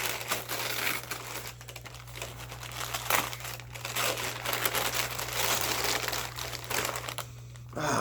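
Packaging crinkling and rustling as a custom Rahm Kota lightsaber is unwrapped: close, continuous crumpling of wrapping with a steady low hum underneath.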